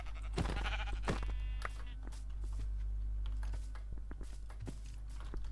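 Two short, close bleats of a sheep in the Minecraft video game come in quick succession, followed by soft patter and footsteps over a steady low hum.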